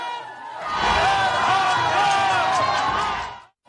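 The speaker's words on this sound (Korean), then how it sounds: "지지자들의 함성이 커집니다." Supporters gather outside a detention center as the presidential security motorcade arrives, their loud roaring and shouting swelling into a sustained crowd cheer before cutting off abruptly.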